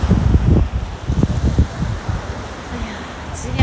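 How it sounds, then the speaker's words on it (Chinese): Strong gusty wind at a Sanya beach buffets the microphone in rough, uneven low rumbles and bursts that ease toward the end. "但是在海边那个风很大"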